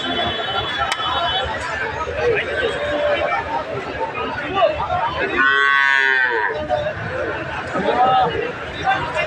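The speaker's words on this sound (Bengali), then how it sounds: "আবারও গাভী এবং বাছুর।" Cows and calves at a busy livestock market, with a clear moo rising above a steady background of crowd chatter and people talking nearby.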